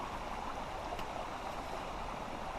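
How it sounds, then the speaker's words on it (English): Cedar Creek runs high after a night of heavy rain, a steady close rush and gurgle of water that continues unbroken. "Beautiful creek. Now granted, it poured last night, right?"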